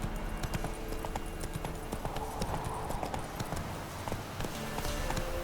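Rapid rhythmic hoofbeats of the horse Roach galloping in The Witcher 3 video game, steady clip-clop carrying throughout over dense game ambience, with a faint voice at times.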